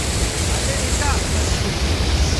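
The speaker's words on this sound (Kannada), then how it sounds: "ನೀರು ಸೌಂಡ್ ಅಂತೂ ಕಿವಿಗೆ ಕೇಳಿಸ್ತಿದೆ." Water rushing steadily at Balmuri Falls, a continuous broadband roar with low rumble, constant and fairly close, with no clear breaks over the short span.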